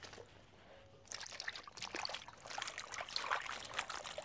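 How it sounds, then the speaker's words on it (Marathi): Brinjals being washed in a vessel of water, faint close sloshing and trickling with splashy bursts after the first second, quiet and without talk. "परत स्वच्छ एका पाण्याने धुवून घेऊया"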